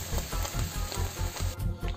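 Ground roasted masala paste sizzles in a hot pan for a Kerala chicken roast, a close, crackling fry with soft rhythmic stirring scrapes.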